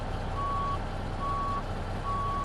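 A truck in American Truck Simulator backing up, its reversing alarm giving three evenly spaced steady beeps over a constant low engine rumble, close and clear.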